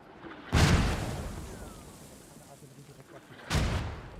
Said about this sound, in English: finally some mortars right on the house